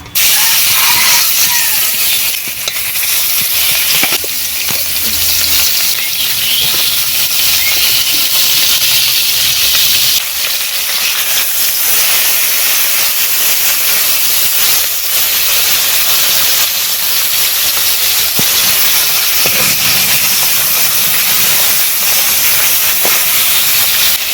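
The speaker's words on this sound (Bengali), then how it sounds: "তেল গরম হয়ে গেছে এবারে মাছগুলো দেবো" Fish frying in hot mustard oil in a kadai in a village kitchen, giving a loud, steady, continuous sizzle and hiss that fills the whole stretch with no talking.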